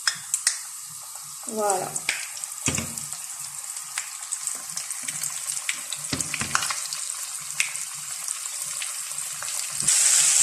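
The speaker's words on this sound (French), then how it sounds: "ma mère va mettre un poisson dans l'huile" Fish lowered into hot oil in a home frying pan sizzles steadily throughout, with bursts of crackle and bubbling near the start and a brief spoken word over it.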